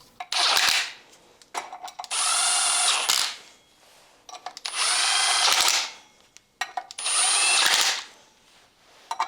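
A power tool buzzes in four sustained bursts, each lasting about a second or more with short pauses between, as the clutch is fastened onto a Honda D series engine; close and loud with no talking.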